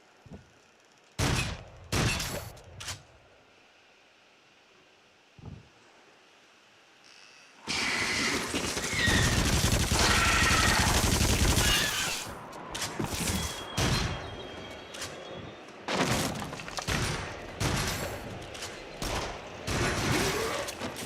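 Gunfire in the PSVR game Fracked: quiet stretches with a few isolated sharp bangs, then a loud sustained burst of shots and mechanical clatter, followed by more scattered shots and impacts.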